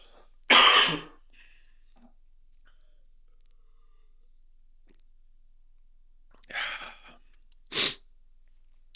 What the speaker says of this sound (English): Pause, cough break.